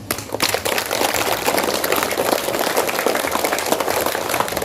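Audience at a primary school event in Narimbang claps in a dense, sustained burst of applause, fairly loud and continuous throughout.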